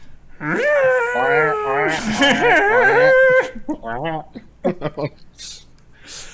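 A voice imitates a happy penguin call during a podcast, with a run of warbling, rising and falling squawk-like tones. Shorter broken vocal bursts and breaths follow after about three seconds.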